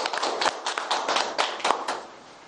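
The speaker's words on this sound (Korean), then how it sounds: "박수 부탁드립니다." Audience clapping as a forum's opening address begins, a dense burst of hand claps at moderate level that gradually thins and fades toward the end.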